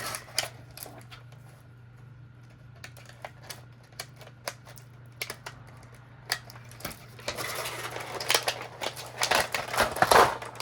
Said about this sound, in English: And let's get this package open.